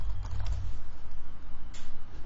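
Fingers tap out code on a computer keyboard in a short burst, a quick irregular run of soft clicks close by with no talk over them.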